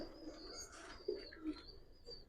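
Hammer-breed pigeons with large necks give low, soft coos in short bursts, fairly close, with faint background noise and no talk.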